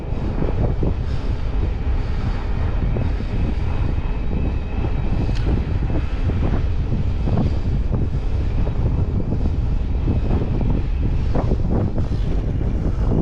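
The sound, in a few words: wind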